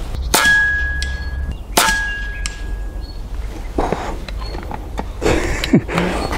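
A PCP air rifle charged to 260 atmospheres fires 6.35 mm solid slugs at 100 meters: two sharp, close shots about 1.5 seconds apart, each with a faint metallic ring, followed by quieter handling noises and a soft thud.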